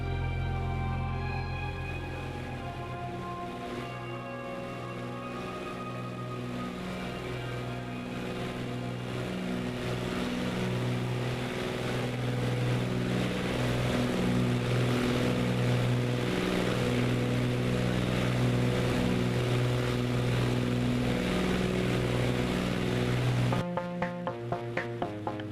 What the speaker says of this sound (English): The engine sounds are absolutely amazing, but very loud.